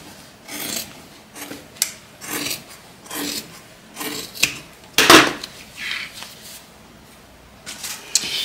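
Scissors snip through bag fabric in a series of short, close crunching cuts roughly every second, with one louder sharper snip midway and no talking.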